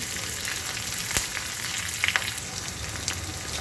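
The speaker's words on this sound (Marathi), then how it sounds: "यामध्ये आपण कांदा टाकून घ्यायचा आहे आणि कढीपत्ता टाकून घ्यायचा आहे" Onion and curry leaves go into hot oil with chilli and garlic for a Maharashtrian pithla, giving a steady close sizzle with crackling pops and a few sharp spatters throughout.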